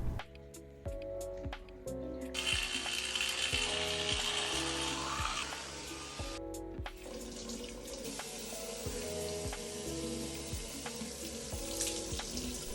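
A bathroom tap runs steadily while a cream face mask is washed off, water splashing and spattering in broken bursts with small knocks and clinks underneath, no talk over it.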